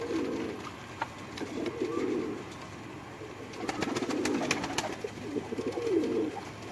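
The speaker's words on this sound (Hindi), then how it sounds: "नवाब कबूतर हैं जी।" Nawab pigeons coo in a loft, giving several low, rolling coos in repeated bursts. They sound close and fairly loud, with scattered wing flutters or clicks between the calls and no talking.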